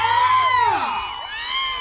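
A crowd at a bullock cart race cheers and shouts in one loud, sustained wave of whoops and yells, rising and falling together.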